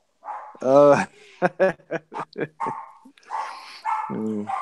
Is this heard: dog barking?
yes